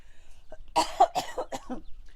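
A person coughs several times in a quick, harsh burst, close to the microphone, with no talking.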